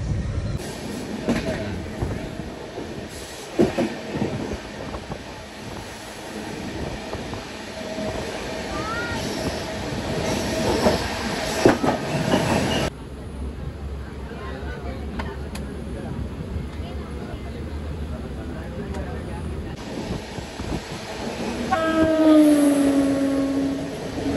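Steady rumble and rattle of a moving passenger train, with a shift in tone midway and a faint wheel squeal near the end, with no talking.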